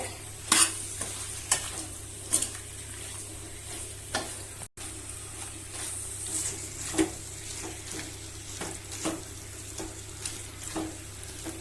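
Chicken curry stirred in a frying pan, with a spoon scraping in regular strokes over a steady close sizzle of frying.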